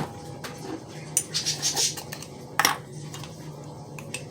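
Metal measuring spoons clink and tap against each other and a container while baking powder is measured for biscuits, a few brief bright clatters close by and fairly faint in a quiet kitchen.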